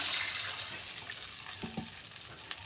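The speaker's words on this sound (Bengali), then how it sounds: "এখন হচ্ছে জল দিয়ে দিলাম" Water is poured into a simmering pot of small fish and banana curry, a steady splash and hiss that fades into gentle bubbling with a couple of faint clinks near the end.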